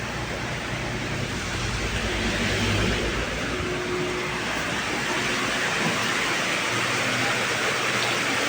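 Heavy rain pouring down outdoors: a constant, loud, broadband hiss of falling water that stays steady throughout, with no talking.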